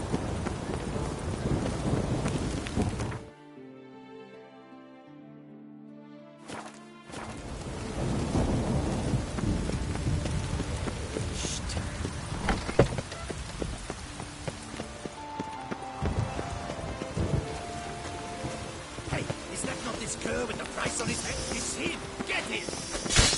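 Rainy thunderstorm in the video game The Witcher III, with rumbling thunder, hoofbeats and voices over a steady wash of rain; the sound drops out briefly early on, then resumes.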